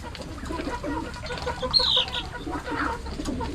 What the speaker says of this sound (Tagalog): Ayan talaga ang manok.